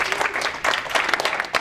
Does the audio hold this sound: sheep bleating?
no